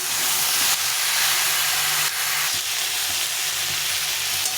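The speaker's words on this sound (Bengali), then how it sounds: "দিয়ে একটু ভালো করে ভেজে নিতে হবে" Ridge gourd with turmeric fries in a pan with a loud, continuous, steamy sizzle that holds steady throughout, broken only by a few faint stirring scrapes.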